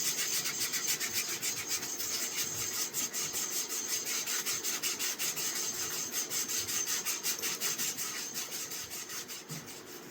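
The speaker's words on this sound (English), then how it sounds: "And then you want to clean it up obviously with sandpaper afterwards." Sandpaper rubs steadily over the wooden handle of an Opinel folding knife in quick back-and-forth strokes, a close, even scratching rhythm that runs throughout with no voice.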